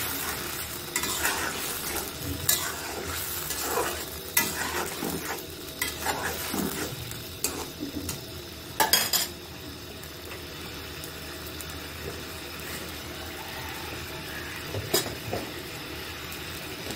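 Shing fish curry in a pan, just seasoned with cumin, sizzles and fries steadily while a spoon stirs it in repeated scraping strokes, close and moderately quiet, with no talking.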